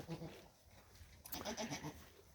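A dairy goat bleats a few times up close, short wavering cries separated by brief pauses.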